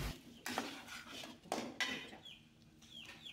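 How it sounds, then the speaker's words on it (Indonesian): Batagor sauce with palm sugar is stirred in a pan, a utensil scraping and clinking against the metal in a few quiet, uneven strokes. "kembali kita aduk-aduk lagi"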